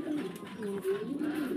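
Farm-kept breeding pigeons coo softly in low, throaty, wavering tones, a close and continuous murmur from birds in a loft.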